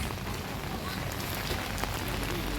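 Winter rain pours steadily over a street in Duki city, a dense, even hiss of drops hitting surfaces that holds close and constant throughout, with no speech over it.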